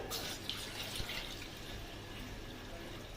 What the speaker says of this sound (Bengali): এর মধ্যে আমি দিয়ে দেব জল।